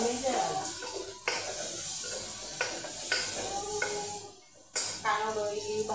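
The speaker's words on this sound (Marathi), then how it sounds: "कांदो बरी भाजून घेवया बरो" Onions frying in a pan sizzle softly while a spatula stirs and scrapes against the metal in repeated bursts, with brief pauses between strokes and a few clinks.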